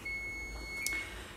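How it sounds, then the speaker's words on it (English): A kitchen timer's steady electronic beep holds for about a second, followed by a quick high chirp, faint against a quiet room. "I just heard my buzzer"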